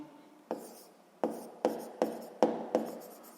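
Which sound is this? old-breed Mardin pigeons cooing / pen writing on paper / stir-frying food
pen writing on paper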